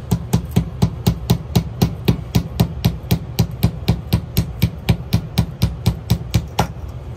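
A hammer strikes a wooden golf club shaft on the ground, pressing the edges into the wood with steady, evenly spaced blows, loud and close, about three to four hits per second, with no talking.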